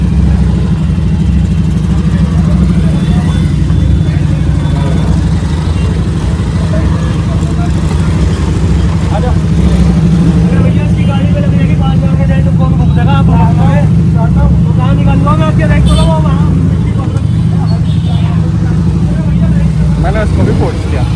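Road traffic of cars and motorcycles jammed for hours near Rishikesh, a steady loud rumble of engines idling and revving close by, with people talking over it throughout.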